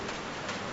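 Steady, dense hiss of pouring rain in the video game Call of the Sea, an even broadband wash with no breaks across a very short stretch.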